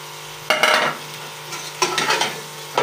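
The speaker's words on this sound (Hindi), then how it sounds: "अच्छे से इसको कर लेंगे मिक्स, फ्राई करेंगे इसको थोड़ा" Carrots, capsicum and onion stir-fried in a pan for chicken chow mein, with three distinct bursts of tossing and scraping over a low sizzle, each heard close and loud before it fades.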